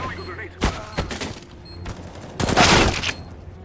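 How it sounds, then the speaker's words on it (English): Gunfire and a grenade blast in Counter-Strike: short sharp bursts near 0.6 and 1.0 s, then a louder, denser explosive burst around 2.5–3.0 s, with faint game ambience between. "Throwing a grenade."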